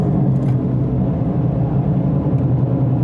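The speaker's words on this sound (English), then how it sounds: "I'll leave you just with enjoying the Mini John Cooper Works GP" Mini John Cooper Works GP driving around the Nürburgring racetrack, heard as a continuous loud low engine drone with steady rumble and no pauses, recorded close up as if from inside the car.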